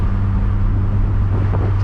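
Mazda Miata sports car driving on back roads with the windows down: a loud, steady engine drone and road rumble up close, with wind noise and no talk.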